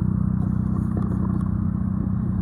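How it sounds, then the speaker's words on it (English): A 2014 Dodge Charger engine idles steadily at close range, a continuous low rumble with a faint clatter running through it and no talking. "Alright, the motor sounds good."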